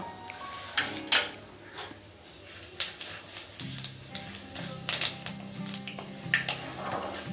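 Two bay leaves and Bengali five-spice tempering sizzling in hot oil for a vegetarian vegetable curry, a soft steady crackle with light clinks of a utensil against the pan.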